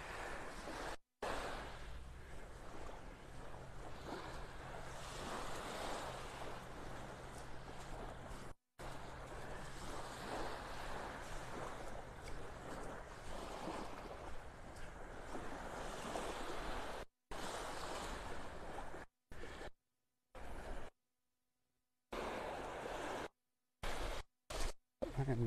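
Ocean surf rolls onto Vanderbilt Beach in North Naples, Florida, a continuous broad wash of waves with wind buffeting the microphone, steady and fairly faint, with the sound dropping out in brief gaps toward the end.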